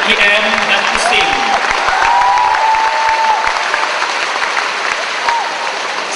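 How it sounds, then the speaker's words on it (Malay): Sustained audience applause at the final round of a 2011 Prime Minister's Cup university debate championship, loud and steady for the whole stretch, with a voice briefly audible over the clapping. "Kita berikan tepukan sekali lagi kepada UiTM dan USIM."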